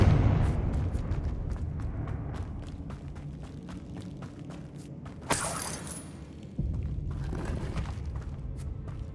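In a tomb in the video game Hogwarts Legacy, a Confringo fire spell bursts midway through a quiet, low rumbling ambience. It is a sharp crackling blast that trails off, followed by a lighter second surge.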